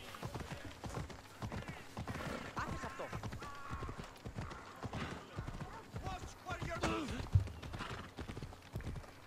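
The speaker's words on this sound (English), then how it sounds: "Let's go, horse." A horse gallops in Assassin's Creed Odyssey, its steady hoofbeats and an occasional whinny running under continuous game sound and someone talking over it.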